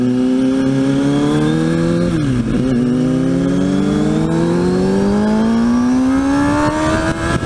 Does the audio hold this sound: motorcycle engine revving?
yes